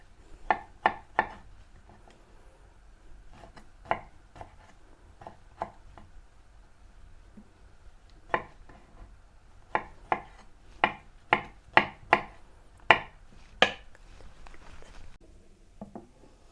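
Knife chopping ingredients finely on a board for a remoulade sauce with capers and gherkins: bursts of sharp, close taps in quick runs separated by pauses, with no voices.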